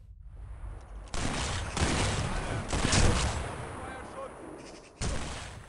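Gunfire in the video game Sniper Elite 4 on an iPad: dense, loud bursts of shots and booming battle noise roll on continuously, with a sharp burst near the end.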